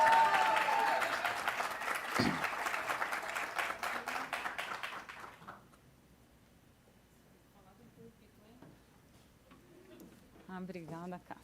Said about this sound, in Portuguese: gostaria que todos dessem uma salva de palmas para ela